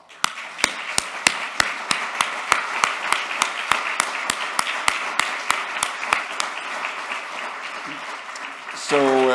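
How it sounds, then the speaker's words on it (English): Conference audience at a type 1 diabetes meeting breaks into applause, a steady wash of clapping punctuated by regular sharp rhythmic claps, ending with a voice starting to speak. "should we give Bent a huge applause?"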